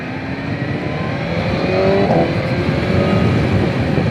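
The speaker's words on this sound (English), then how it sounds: "the noise coming out of this bike is just beautiful" A BMW M1000XR sports motorcycle in race mode roars steadily nearby, its exhaust droning, crackling and revving in a loud, continuous rumble.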